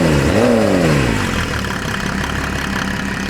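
A Mercedes OM606 diesel engine in a Land Rover build revs quickly up and back down with a rising and falling pitch, then settles into a loud, steady idle close by.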